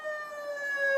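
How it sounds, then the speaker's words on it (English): An emergency siren sounds during a roadside encounter with police, a steady high wail with a bright harmonic tone, fairly close and alone, holding for about a second without voices. "as long as you have a siren on there and it produces a sound"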